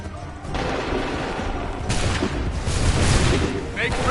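Musket volley from a line of Redcoat soldiers in Assassin's Creed III, a loud crackling burst of overlapping gunfire with booming reports that rolls on for several seconds, mixed with battle noise and shouted orders.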